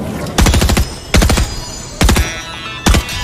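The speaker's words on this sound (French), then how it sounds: "Tirer sur des cibles avec un pistolet mitrailleur ou un fusil d'assaut." Close, loud bursts of automatic assault rifle fire come from a shooting-range task in Fortnite. Four short rapid volleys are spaced about a second apart, with no talking.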